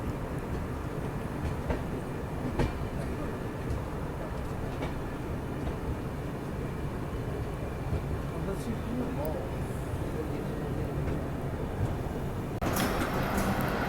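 Virbhumi Express passenger train rolling through Kapasan station on the Udaipur–Ujjain route, heard from inside a 2AC coach: steady loud rumble with faint wheel clatter throughout, a brief burst of hiss near the end.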